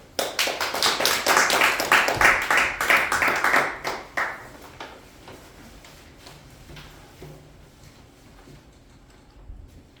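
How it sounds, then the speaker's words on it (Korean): Church congregation at a New Year breakfast worship service claps in a dense burst of applause for about four seconds, then fades to a quiet room with scattered faint taps. "큰 박수로 환영했으면 좋겠습니다"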